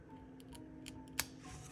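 Scissors snipping paper during a planner setup, several quiet separate cuts in a calm room, with one sharper snip near the end.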